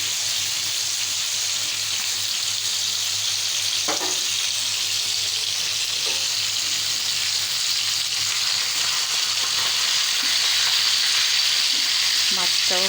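Stems and potatoes fry in a pan with a steady, bright sizzle throughout, broken by a few scraping stirs of a utensil, close and fairly loud.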